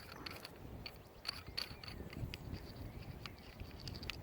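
Parts of a metal 13 in 1 survival tool being screwed together, giving faint small clicks and ratcheting ticks at close range with a low background hiss.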